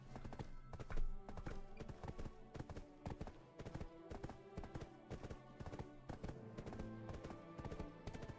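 Horse hooves clip-clop in a steady, rapid rhythm in the video game Black Desert Online, quiet but continuous clatter of a trotting horse with no voices.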